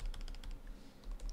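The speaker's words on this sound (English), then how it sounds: "Well, the keyboard is funny. But it's, at the same time, it is quite clicky though." Quick, clicky keystrokes on the keyboard of a 15-inch MacBook Pro (A1707), typed in short bursts with a brief pause in the middle, close and fairly quiet.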